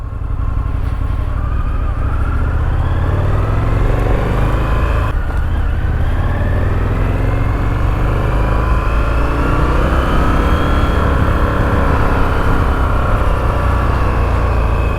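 An Indian FTR 1200S motorcycle is ridden in first gear, its engine loud and close as it pulls steadily and rises in pitch through the revs, with a brief dip midway before it climbs again.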